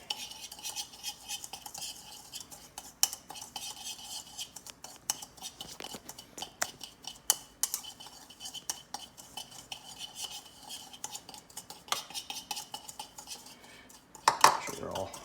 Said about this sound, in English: I'm going to grab a quick little whisk here, mix these all together.